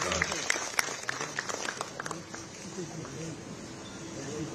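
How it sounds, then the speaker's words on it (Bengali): Faint audience clapping for a student at an education event, brief scattered claps at the start fading into a low, busy hall murmur with people talking. "আপনারা সবাই মিলে যদি তার জন্য হাততালি দেন।"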